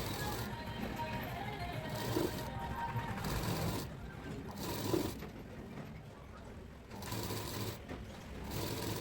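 Sewing machine running straight seams on lehenga panels, a quiet rapid whirring clatter that starts and stops in several bursts, heard close but faint.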